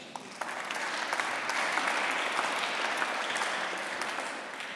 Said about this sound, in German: Wie klingt ein Applaus der Stufe 1?